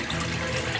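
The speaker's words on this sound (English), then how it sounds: "I'm just going to try and wash that off first off before we put in the next" Running tap water splashing steadily over boiled acorns being rinsed in a sink, a continuous close wash with no pauses and no talking.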